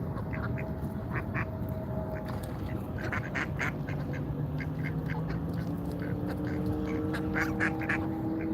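A duck outdoors at a Washington DC protest quacks over and over in quick, uneven bursts, loud and close, over a steady hum of background noise.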